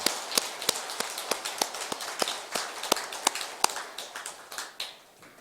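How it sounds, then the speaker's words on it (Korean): Scattered hand claps from an audience at a Buddhist temple Dharma service, irregular sharp slaps that thin out and fade toward the end, with no voices. "박수 한 번 더 쳐주세요."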